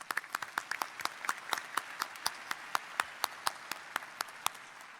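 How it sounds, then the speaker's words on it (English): A crowd at the Iowa State University spring 2019 undergraduate commencement applauds, with a steady run of sharp, closely spaced claps that carry on loudly without a break. "Another round of applause."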